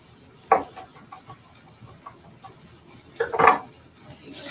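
Garlic and vegetables stirred in a pot for mushroom risotto give a couple of clear utensil knocks against the pot and soft scraping in between, heard close over a low kitchen background with no talking.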